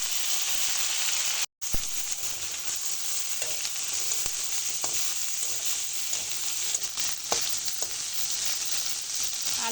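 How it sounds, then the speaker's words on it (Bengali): Potatoes frying in hot oil together with dried loitta fish make a loud, continuous sizzle that drops out for an instant, with occasional stirring scrapes. "এবার আমি আলুগুলো ভেজে নেব মাছের সঙ্গে"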